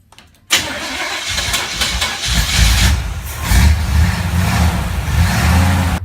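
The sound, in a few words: car engine starting sound effect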